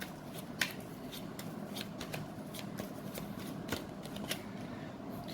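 Tarot cards are shuffled by hand, a soft, close riffling and flicking with quick, irregular snaps repeating throughout over a quiet room.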